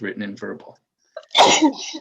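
A single sharp sneeze from someone nearby bursts out after a stretch of speech and a short silence, loud and brief in the second half.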